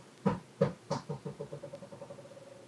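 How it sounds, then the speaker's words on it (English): A dog's ball bounces across an indoor floor. A few hard, loud thuds come first, then the bounces quicken into a rapid, fading patter as the ball settles. There are no voices. "that was the sound of our dog's ball bouncing across the floor"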